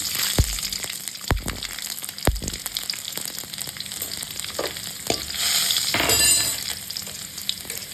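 Garlic sizzles steadily in oil in a pan, with several sharp clinks and scrapes from stirring and a brief louder surge of frying near the end.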